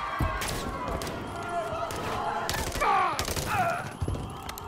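Gunfire in the Call of Duty Modern Warfare 3 campaign, a run of sharp shots and bursts mixed with game effects and voices talking over the action.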